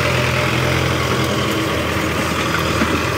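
A new Hindustan 60 tractor with a 50 HP engine running steadily, a continuous low, rumbling drone that holds even and fairly loud throughout, with no voices.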